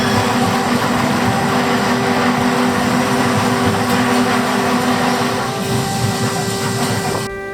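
A historic tram in Porto, over 100 years old, rolls loudly along its rails, a steady rumbling clatter with a sustained tonal hum, easing slightly before a sudden drop near the end.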